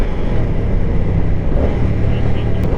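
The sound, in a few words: 2024 Moto Guzzi Stelvio motorcycle engine exhaust note above 4,000 revs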